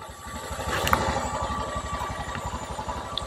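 A Honda Vario 150 scooter engine runs with a rough, rapid clattering idle, steady and fairly close, with faint knocking ticks over the continuous low throb.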